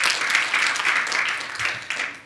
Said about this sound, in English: Can we please applaud?